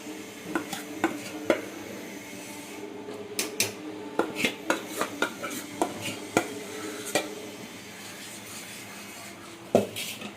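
Gongura leaves being stirred into cooked dal in a metal pot, a spoon scraping and knocking against the sides in irregular clinks and rubs, close and fairly quiet with no one talking.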